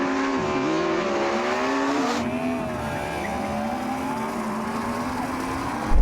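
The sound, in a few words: Ferrari SF90 accelerating in a drag race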